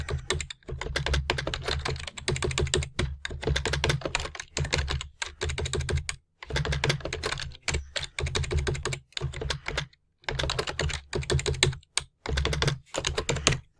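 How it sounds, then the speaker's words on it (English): Rapid typing on a computer keyboard, close and clear, with bursts of clattering keystrokes separated by brief pauses. "So now I'll just type in the new days."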